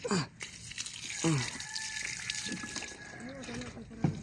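A tap runs strongly with a steady, rushing gush of water close by, while people talk over it in short bursts.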